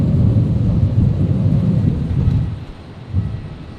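A Qatar Airways jet arriving from Doha touches down at Brisbane airport, a loud, broad roar that swells and then fades, with a brief renewed burst near the end.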